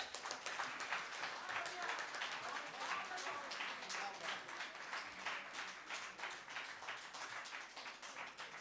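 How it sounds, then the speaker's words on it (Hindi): Sustained audience applause at a Hindi youth event at the Nehru Centre, dense, steady clapping from a crowd, with a voice speaking over it. "जब यहाँ युवा युवतियाँ तालियों के बीच आती हैं और आप लोग उन्हें जब तक वो चले नहीं जाते तालियों के बीच रखते हैं"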